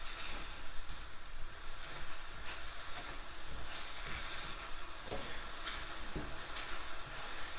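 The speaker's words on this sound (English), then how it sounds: "You can hear it sizzling." Sesame seeds toast in a pan with a steady, close sizzling hiss throughout, broken by a few faint pops and crackles.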